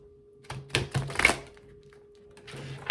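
Several soft papery riffles and taps of tarot cards being shuffled, a few quick bursts close by against a faint steady hum, with quiet gaps between.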